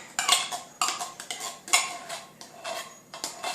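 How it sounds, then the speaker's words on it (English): A metal spoon scrapes thick, brittle cheese soup out of a can in repeated short, bright scraping strokes, close and clear with no talking. "Scrape as much out with your spoon as you can."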